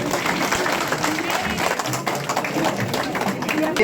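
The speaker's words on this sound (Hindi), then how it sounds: "वो अपने स्थान पर खड़ा होकर के तालियों के साथ उनका स्वागत करें" A crowd at a BJP political event in Kathua, Jammu and Kashmir, applauds standing to welcome guests, a dense, loud, continuous roar of clapping with voices mixed through it.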